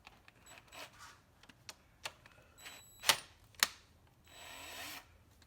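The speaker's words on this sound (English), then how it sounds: "So we're gonna be putting all 24, I think it's 24 screws back in," A power tool tightens the screws on a BMW 335xi N55 engine cover, giving faint short whirs and light metallic clicks scattered across a quiet workshop background.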